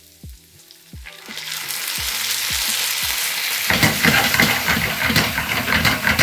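Onions sizzle in a pan with vinegar and stock reducing to a syrup. Clicks and stirring come first, then the frying builds to a loud, steady, bubbling hiss that holds to the end.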